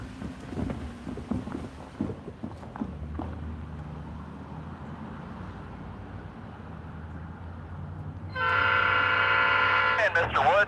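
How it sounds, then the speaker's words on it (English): Steam locomotive 4501 and a second steam engine sound dueling whistles on a decorated excursion run, loud sustained harmonic blasts arriving near the end after rumbling train noise and scattered talk. "Up front, dueling whistles because the turntable doesn't work."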